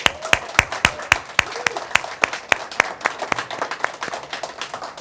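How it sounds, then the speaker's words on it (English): A live audience gives a student panel a round of applause: sharp, distinct claps from a few nearby hands stand out over a softer spread of clapping, close and lively for five seconds. "can we give them a round of applause?"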